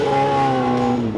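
Motorcycle engines roaring at a motorcycle drag race in Rustavi, a loud, close, sustained drone with steady pitch that holds strongly for the brief moment before dipping slightly at the end.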